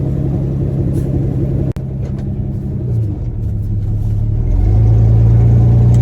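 An old 1979 Chevy C-10 pickup engine rumbles at idle, then revs and accelerates as the truck pulls away, growing louder and steadier toward the end.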